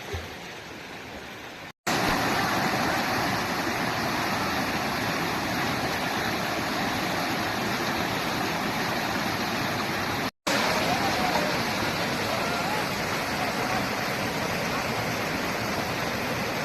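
Water rushing over rocks, a loud, steady roar of broadband noise that never lets up, close by and with no voices over it.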